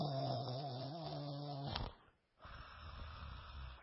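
A voice imitates a man snoring, a close, rough, rattling inhale with a wavering drone that breaks off, followed by a softer breathy exhale.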